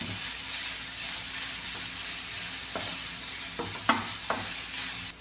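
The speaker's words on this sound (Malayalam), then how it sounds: "ഗ്രേറ്റ് ചെയ്ത് വെച്ചിട്ട് ക്യാരറ്റ് അതും കൂടെ ചേർത്ത് കൊടുക്കാമേ" Grated carrot sautéing with green chilli and curry leaves, a steady close sizzle with a few sharp spatula scrapes and taps clustered near the end.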